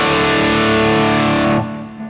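Electric guitar played through a Kemper profile of a Marshall amp: a loud, heavily distorted sustained chord that rings for about a second and a half before being cut off and fading.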